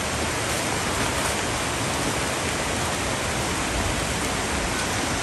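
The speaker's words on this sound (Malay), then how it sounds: "Hujan hari itu guys, hujan bisa musik tuh." Heavy rain pours down in a forest during a hunting trip, with strong wind, a dense, steady broadband roar that stays loud and unbroken throughout.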